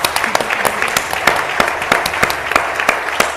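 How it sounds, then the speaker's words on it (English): An audience gives a round of applause at a medical talk on Dravet syndrome. Many hands clap in a loud, continuous wash, with a few sharp, distinct claps standing out close by. "a round of applause for Shannon and for the Dravet Syndrome Foundation"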